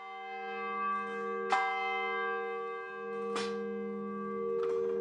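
Church bells ring on Christmas Day with long sustained tones, three distinct strikes spaced a couple of seconds apart, each blooming and ringing on into the next.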